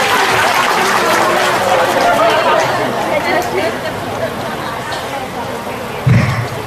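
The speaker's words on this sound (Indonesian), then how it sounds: "Tepuk tangan untuk Indonesia." Crowd at an Indonesian religious gathering (pengajian) clapping and chattering loudly for several seconds, a dense, steady wash of applause and murmuring voices filling the hall.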